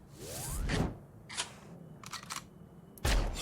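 Sniper rifle shots from the Sudden Attack shooter game: two sharp, loud cracks about two and a half seconds apart, with mechanical bolt and weapon-handling clicks between them and no talking.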